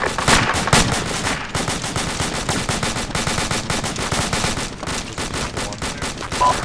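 Rapid automatic gunfire from the military video game Arma 2, dense overlapping bursts and single shots crackling continuously and loudly throughout with no pause.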